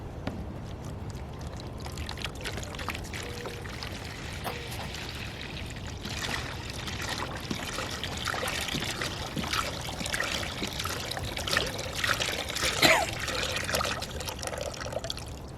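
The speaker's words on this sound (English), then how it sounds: "I'm going to add to that 1 gallon of water, which I measured out by using an empty milk jug." A gallon of water from an empty milk jug pours steadily into a wash tub bucket for dye, a continuous close splashing trickle that swells slightly louder toward the end, with no voices.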